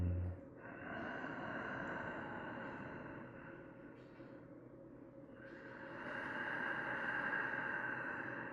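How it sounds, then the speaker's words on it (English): Slow, steady breathing through the nose during a yoga class, soft and close with long drawn exhales rising and easing over several seconds, alone without any talking. "Slow exhales out the nose."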